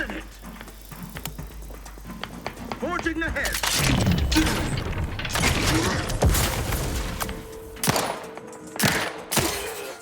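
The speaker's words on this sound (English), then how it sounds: "Explosion imminent!" Video game explosion sequence in The Outer Worlds 2, a loud crackling burst of blasts and debris with scattered sharp pops, heard alongside game dialogue and a faint mechanical hum.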